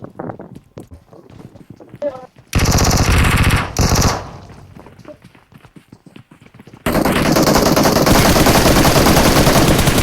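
Video game minigun and shotgun fire: scattered sharp shots and footsteps, then a loud unbroken minigun burst, a quieter patch, and another long, dense, very loud stream of rapid fire that runs to the end.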